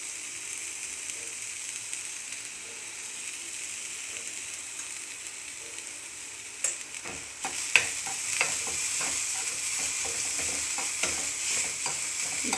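Onions sautéing in a pan with cashews and salt give off a steady, close sizzle; partway through, a spoon starts stirring and adds repeated light scrapes and clatters. No one speaks.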